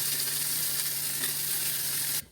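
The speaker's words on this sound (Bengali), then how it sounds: "এখানে আমি একটু পেঁয়াজ আর রসুন কুচি একটু ভেজে নেব।" Chopped onion and garlic sizzling in oil in a frying pan, a continuous bright hiss that cuts off abruptly at the end, with no talking.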